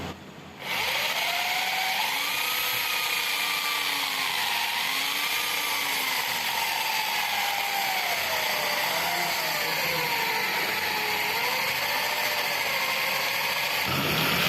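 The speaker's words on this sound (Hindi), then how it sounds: "अब हम इसको ग्राइंडर मशीन लगाएंगे।" Grinder machine running steadily while grinding spices and black pepper for haleem, a loud continuous motor whine with wavering pitch that starts abruptly and holds throughout.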